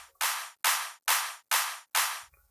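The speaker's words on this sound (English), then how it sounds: "More of a festival white noise type clap, and it goes well with these toms and claps." A festival-style white noise clap sample, five bright hissing bursts in an even rhythm, each with a sharp attack and a fading tail, clear and alone.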